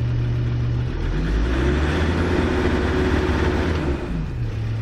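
Land Rover Discovery 2 turbo diesel engine revved up from idle, a steady loud rumble swelling as the revs climb, holding briefly, then dropping back toward idle near the end.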